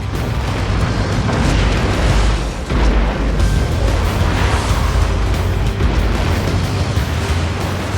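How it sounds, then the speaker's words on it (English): A burning building's facade collapses and tons of debris strike the ground, heard as a loud, sustained rumbling roar with heavy low crashing that briefly dips and swells again. "Fire crews retreat as the building's facade violently tumbles to the ground."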